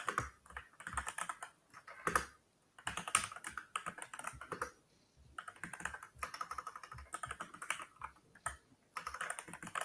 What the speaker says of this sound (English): I like your clicky keyboard.